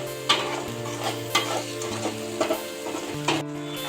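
A spoon knocks and scrapes repeatedly against a pan as turmeric and ginger-garlic paste are stirred with carrots. A soft sizzle and a steady low hum run underneath.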